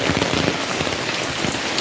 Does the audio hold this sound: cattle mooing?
no